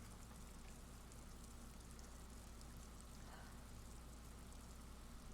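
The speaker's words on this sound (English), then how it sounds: "It is strange being able to hear the rain in the game." Steady, soft rain falls in the video game Disco Elysium, a continuous hiss of drops with a low rumble underneath, quiet and unbroken throughout with no voices.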